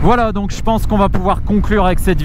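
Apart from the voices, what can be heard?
None of the usual background noises is heard.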